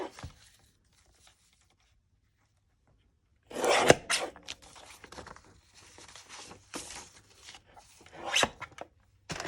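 Paper signatures of a fabric-covered journal being trimmed, giving close, scratchy cutting and rasping bursts of uneven length, starting after a quiet opening and ending with a few sharp rustles.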